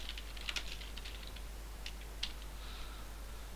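Light, quick keystrokes patter on a computer keyboard, close and fairly quiet over a faint steady hum, coming in short irregular bursts with brief pauses between them.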